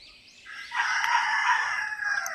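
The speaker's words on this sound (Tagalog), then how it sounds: "Ito yung native na manok." A single native chicken rooster crows one long cock-a-doodle-doo at moderate distance, rising and then trailing off.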